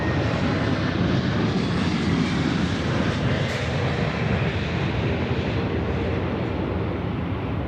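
A Dash 8 Q400 "Super Q" turboprop at Sydney Airport roars close by, a loud, steady, broadband engine and propeller drone that holds at full strength throughout with no voices over it.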